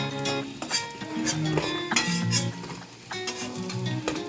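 Fish-roe fritters fry in hot oil with a soft, steady sizzle, joined by scraping stirs and light clinks of a utensil against the pan.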